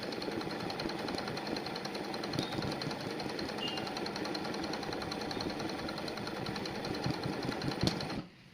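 An embroidery sewing machine stitches continuously in a fast, even mechanical rattle, close and steady for several seconds before stopping abruptly at the end.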